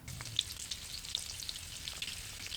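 Jalapeno popper and crab rangoon egg rolls deep frying in oil at 350 degrees Fahrenheit, a steady bubbling sizzle with scattered little pops and crackles, fairly quiet and close, with no talking.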